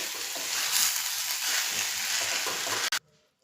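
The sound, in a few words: stirring boiled green corn kernels in a pan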